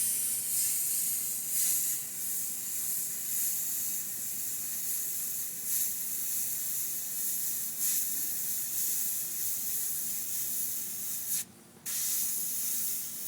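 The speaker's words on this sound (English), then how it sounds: "this airbrush does it all. Thin to thick, without any hesitation, as you see." Airbrush spraying paint in short and long bursts to lay down drop shadows, a soft continuous hiss that swells and dips with brief pauses, close by and alone without talk.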